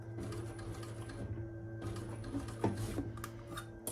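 A domestic sewing machine stitches a fabric storage caddy, giving a steady mechanical whir and hum with light ticking and clicks, close by with no one talking.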